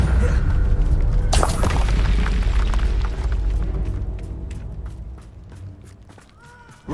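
A Confringo blasting spell from Hogwarts Legacy erupts in a sudden loud explosion, followed by a rumbling, crackling tail that fades over several seconds beneath steady game ambience.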